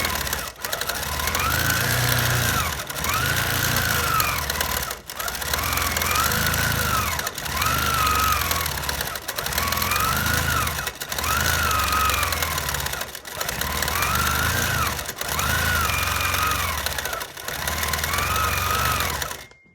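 Sewing machine free-motion quilting swirls, a fast mechanical needle chatter running in bursts of about two seconds separated by brief pauses, close and steady with no talking.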